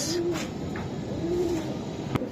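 Budapest (dobas) racer pigeons at a pigeon seller's place coo twice, each a soft, low, drawn-out call over a steady noisy background.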